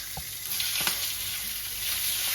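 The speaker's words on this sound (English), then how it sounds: "you've got to start wilting your spinach down. So get the spinach in." Spinach wilting in a hot pan alongside mushrooms, cooked with wood pigeon breasts and bacon lardons, giving a steady bright sizzle with a couple of soft stirring taps, close and continuous with no talk.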